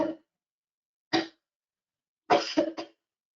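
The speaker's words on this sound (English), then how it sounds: "if I play this waveform to you that's showing some coughing over a period of 5 seconds" A recorded cough sample from a clinical cough-frequency study: one short cough, another about a second later, then a quick burst of three in a row, each explosive and close, with silence between.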